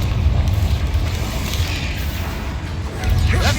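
Loud booming blasts of the Confringo spell in Hogwarts Legacy crash in close succession over rumbling combat noise, with a final heavy burst at the end.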